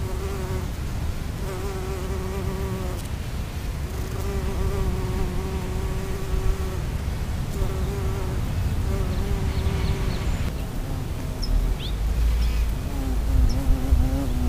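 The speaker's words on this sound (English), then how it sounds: "Most native bees are solitary and nest in dead wood" Native bees buzz near a lagoon at UC Santa Barbara: a steady, close, continuous droning hum with shifting pitch that runs the whole stretch, with no talking.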